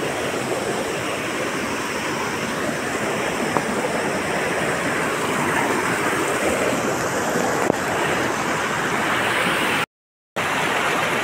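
Oriyang river at Jogighat in North Bengal rushing steadily, a dense continuous roar of flowing water close by, unbroken apart from a brief dropout near the end, with no voices.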